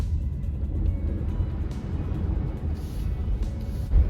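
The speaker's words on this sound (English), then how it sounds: "I have the pedal all the way to the floor right now" A Hyundai Ioniq 5, Kia EV6 or Genesis GV60 electric car in snow mode pushes forward on snow with the pedal floored, giving a steady low rumble of tires and road noise and a faint whine near the end.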